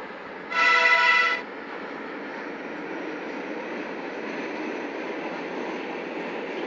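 A Stadler metro train in a Minsk Metro simulator game sounds a brief loud horn-like tone, then settles into a steady low rolling hum as it pulls away.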